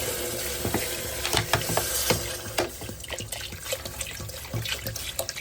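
Water splashes and pours into a cooking pot holding meat for freekeh soup, with irregular gurgles, drips and clinks close by and no speech.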